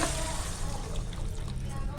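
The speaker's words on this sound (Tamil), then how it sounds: "250 கிராம் சேமியாவுக்கு நம்ம வந்து 400 மில்லி தண்ணி சேர்த்துக்கலாம்." Water is poured steadily into a pan of 250 grams of vermicelli for vegetable semiya biryani, a continuous close splashing rush that holds even throughout without a break.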